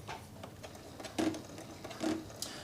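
A sewing machine runs in short bursts, soft rapid mechanical stitching with a couple of brief whirring surges, fairly quiet and without talk.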